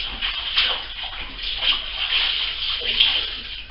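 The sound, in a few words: washing hands under running tap water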